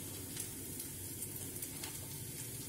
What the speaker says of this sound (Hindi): 3 चम्मच सोया सॉस हम डाल रहे हैं।